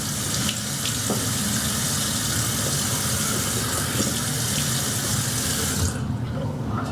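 Tap water runs steadily into a sink as someone wets their face before a shave, a continuous close, full-bodied flow that cuts off abruptly near the end.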